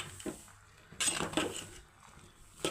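A spoon stirs cooked jackfruit in a metal pot, giving a few brief scraping clinks at irregular moments, close by and moderately loud, with quiet gaps between them.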